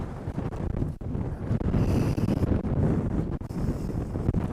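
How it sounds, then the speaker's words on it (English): Strong wind buffets the microphone on a sandy beach at Yarborough Pass, a loud, steady roaring rumble with gusty swells that runs throughout. "this wind is something else"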